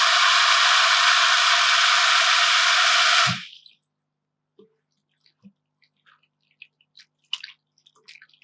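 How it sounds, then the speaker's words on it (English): Tap water runs strongly over food being rinsed for a Japanese New Year osechi dish, a loud steady gush for about three seconds, then cuts off, leaving scattered soft drips and small wet handling sounds. "Rinse with water."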